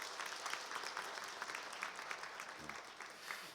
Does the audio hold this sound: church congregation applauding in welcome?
yes